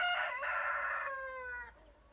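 A mother hen with two young chicks gives a short, harmonic crowing-like call lasting about a second and a half, close and clear, trailing into a fainter note.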